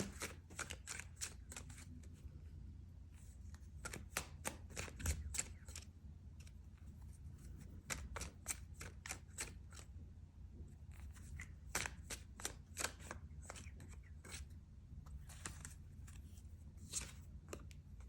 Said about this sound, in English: let me give it a quick shuffle and I'll get one more advice card for you